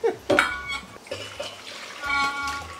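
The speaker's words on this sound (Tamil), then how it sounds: "குக்கர் கழுவணும்." Someone washes a pressure cooker in a home kitchen, with splashing and running water, sharp metallic knocks and the clatter of vessels in bursts.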